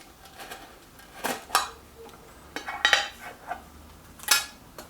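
A tin of air rifle pellets for a Stoeger XM1 .22 is opened, giving a handful of light metallic clinks and scrapes in short irregular bursts, close by and fairly quiet, with no talking.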